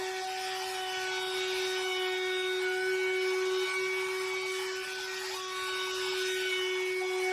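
A 4mm end mill slots metal on a milling machine, giving a steady, piercing high-pitched whine with a constant tonal hum, loud and close with no break throughout.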